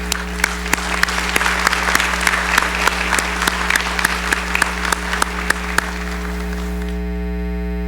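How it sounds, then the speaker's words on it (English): A commencement audience claps in a dense round of applause for about six seconds, then it cuts off and only a low electrical hum remains. "a warm round of applause"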